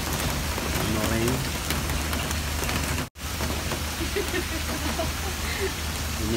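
Steady rain pouring down during a stroll in Kowloon Park, a dense, continuous hiss of drops on surfaces, broken only by a split-second gap midway, with faint voices underneath.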